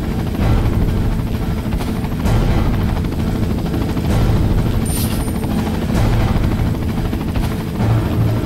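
Helicopter in the video game Resident Evil 4 HD, a steady loud rotor drone filling the whole stretch, with brief sharp bursts of game gunfire rising over it now and then.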